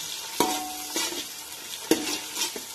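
Tomatoes and onion frying in a pan for Maharashtrian masale bhat, with a steady close sizzle broken by several sharp spatula scrapes and taps against the pan at irregular intervals, no talking.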